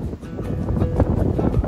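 Wind blows at a harbour in Puerto Real, a steady, fairly loud rushing and buffeting against the microphone with no pauses, close and continuous throughout.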